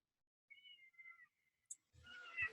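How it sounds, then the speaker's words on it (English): A cat meows nearby in a quiet indoor room, a faint drawn-out cry followed by a short sharp sound and a burst of rustling noise. "I don't know if you can hear, there is a cat next to me."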